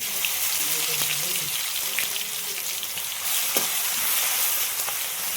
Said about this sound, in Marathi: तेल घालूया, जिरे आणि हिरवी मिरची